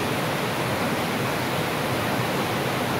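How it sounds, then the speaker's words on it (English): A waterfall pours near a trout stream, making a steady, loud, broadband rushing roar that holds evenly throughout with no voices or other sounds. "Look at that waterfall."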